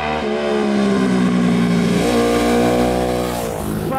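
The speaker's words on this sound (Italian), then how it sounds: "Guardate quanto è lineare per salire i giri!" Bimota DB7 motorcycle engine revving up steadily, a loud, smooth rising whine with strong harmonics climbing through the rev range, close and continuous without speech.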